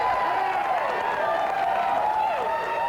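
Large crowd of striking state union workers cheering and clapping, a dense, steady wall of shouts and whoops filling the whole stretch with excited voices rising over one another.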